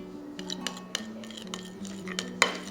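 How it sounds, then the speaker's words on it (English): A utensil mixing honey rib sauce in a bowl for pork back ribs gives light, irregular clinks and scrapes against the bowl, with one brighter clink near the end and no voices. "and then we'll just mix them all up"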